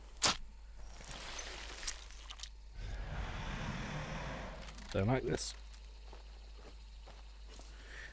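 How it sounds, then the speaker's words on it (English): Footsteps of a nearby player crunch in a few irregular bursts in the video game Hunt: Showdown, heard amid quiet game ambience while someone speaks briefly. "I can hear footsteps"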